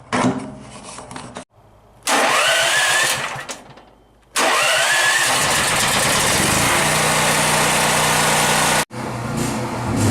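Small generator engine cranked and started in short bursts, then catching and running at a steady loud buzz before cutting out abruptly and restarting, close up with no speech.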